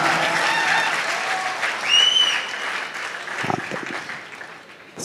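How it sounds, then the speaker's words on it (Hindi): A college audience at a comedy show at IIT claps loudly in a full burst, with a brief whistle cutting through, then the applause gradually tapers off into a few scattered claps. "एक बार ढंग से पीटो ताली।"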